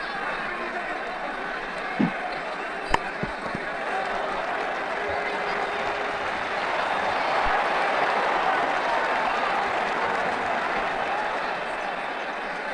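Stadium crowd at an IPL cricket match between Mumbai Indians and Rajasthan Royals in Mumbai, 2009, a steady broad roar of applause and cheering that swells midway, with a few sharp knocks early on.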